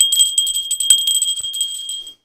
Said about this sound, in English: So ring that bell, Kim.